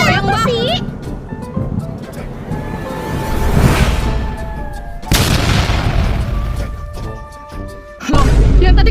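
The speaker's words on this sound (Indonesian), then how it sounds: "Loh, yang tadi kebakar kok yang ini meledak?" Booming blasts from an explosion in the Sakura School Simulator game, with sudden loud broadband bursts around the middle and end, layered under game sounds and a person talking over the gameplay.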